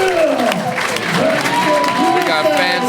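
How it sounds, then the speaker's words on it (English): Wrestling arena crowd applauding and cheering after a title match ends, a steady dense roar of clapping with excited voices mixed throughout, loud and sustained. "Everyone applauding these two men."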